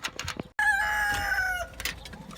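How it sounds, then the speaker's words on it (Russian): A farmyard rooster crows in a village, one long loud cock-a-doodle-doo lasting about a second, close by, with shuffling and a voice around it. "Ой, петух пишет."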